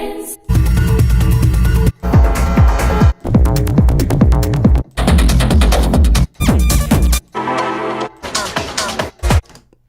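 Techno track with a pounding beat and dense synth layers, playing loudly in several bursts separated by brief gaps of silence.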